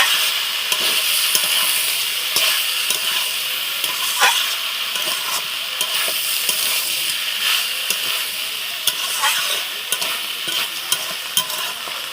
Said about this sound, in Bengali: তারপর অন্যদিকে মা এঁচড় রান্না করে নিচ্ছে